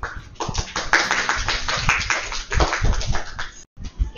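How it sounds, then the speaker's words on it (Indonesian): A school class claps for a student group after their presentation on substances harmful to the respiratory system: close, uneven bursts of many hands clapping and slapping, fading into a short pause near the end. "tepuk tangan"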